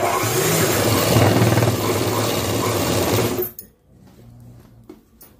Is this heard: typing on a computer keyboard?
no